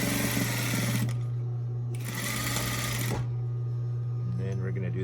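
A sewing machine stitches a homemade fabric face mask with ties, running in two loud bursts with a brief pause between, its steady motor hum continuing underneath.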